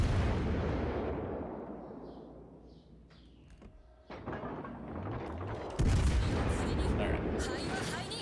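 Heavy gunfire from the battleship Ohio in World of Warships Legends: a booming salvo that rumbles and decays, followed by further loud blasts and rolling echoes, with a voice talking briefly in between.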